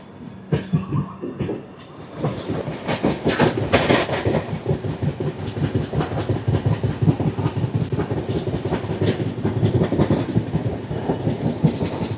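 Janmabhoomi Superfast Express, train 12805, running near Rajahmundry with loud, steady rumble and rhythmic clickety-clack of wheels over rail joints throughout, plus occasional squeals and rattles from the carriage.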